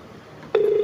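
Ringtone on a Zello Radio G-38 after dialing a number, a steady tone starting abruptly halfway through and holding on, louder than the quiet room hiss before it.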